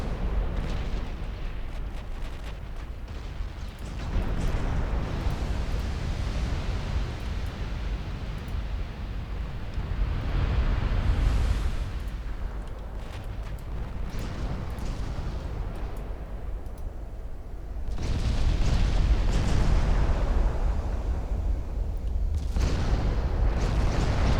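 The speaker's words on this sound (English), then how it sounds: "Enemy torpedoes blew up." Torpedoes blowing up in a naval warship video game set in a 1948 campaign: deep rumbling explosions and booms swell in repeated waves over a continuous low roar, loud and close.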